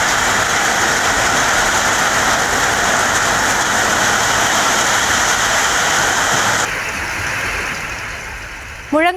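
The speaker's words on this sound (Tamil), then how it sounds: "திடீரென பெய்த கனமழையின் காரணமாக" Sudden heavy rain pours down in Tenkasi, a loud steady wash of rainfall that holds for several seconds before easing and thinning toward the end.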